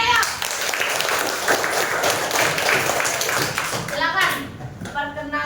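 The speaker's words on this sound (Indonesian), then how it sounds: "tepuk tangan buat Dipta ya" A class of children clapping for a classmate invited to the front, a busy scatter of small hands that fades near the end, with children's voices mixed in.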